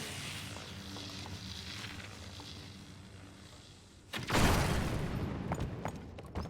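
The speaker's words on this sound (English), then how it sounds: "we'll lose everything anyway to the explosion" An explosion in the video game The Legend of Zelda: Tears of the Kingdom, a sudden loud boom with a crackling rumble that follows a quieter stretch of game ambience and then slowly trails off.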